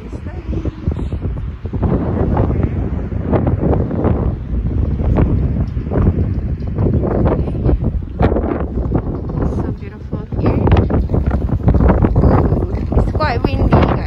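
Strong sea gusts by a pier roar and buffet the microphone almost nonstop, with a person talking underneath the rushing wind.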